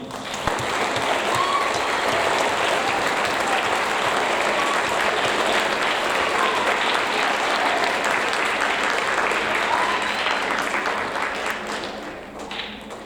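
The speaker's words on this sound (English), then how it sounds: "Round of applause, please." A school audience at a sixth-grade awards ceremony gives sustained, dense applause for a student honoree, steady and loud for about twelve seconds before tapering off at the end.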